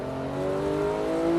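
Porsche 991 GT3 race car accelerating out of a corner at Paul Ricard, heard from onboard as a steady engine drone whose pitch climbs smoothly and grows louder.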